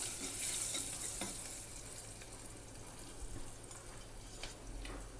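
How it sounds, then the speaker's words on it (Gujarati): Green chili dropped into hot oil already seasoned with asafoetida, frying for a Gujarati chana curry; a steady, close crackling sizzle with a few soft stirring clicks, no voices. "અને મેં હિંગ નાખી દીધી છે અને એમાં હું એક લીલું મરચું નાખી રહી છું"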